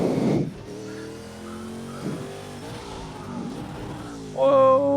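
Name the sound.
brake lockup of a touring car in Project Cars video game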